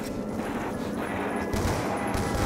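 Steady FN FAL rifle fire rattles through a Black Ops 2 Zombies match, a dense, continuous burst of loud shots that fills the moment with no speech on top.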